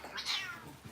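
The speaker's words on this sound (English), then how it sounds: "That's the sound of my cat, not happy." An unhappy cat lets out one short, faint meow that rises and falls within a second, heard alone at a moderate distance.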